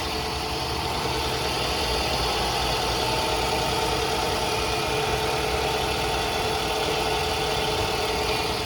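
A first-generation Scion tC, 2005–2010 model, idles right after a starter replacement with a part still removed: a steady, close, unbroken engine hum with a constant low rumble and no voices.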